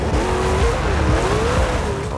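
Dom's Dodge Charger in Forza Horizon 2 revs loudly and continuously, the engine note rising and falling as the car drives, with some tire noise beneath.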